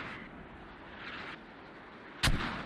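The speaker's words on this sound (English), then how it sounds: "mortar barrage coming in" A single mortar shell from a barrage explodes in a video game, a sharp heavy blast that cuts through a low background rumble and hiss before a short decaying tail.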